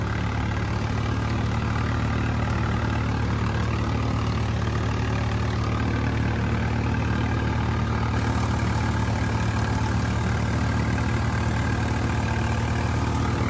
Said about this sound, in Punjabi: ਇਹ ਟਰੈਕਟਰ ਚੱਕਰ ਵੀ ਤੋੜ ਰਿਹਾ ਪਰ ਵਧੀਆ ਚੱਲ ਰਿਹਾ